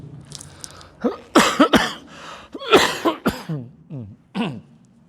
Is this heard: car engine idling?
no